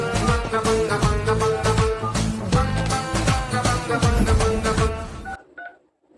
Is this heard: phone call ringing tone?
yes